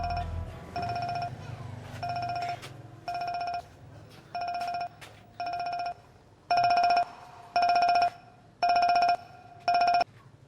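A telephone rings on an incoming call: about nine evenly spaced electronic ring bursts, each roughly half a second long, sounding close and clear over a faint low hum.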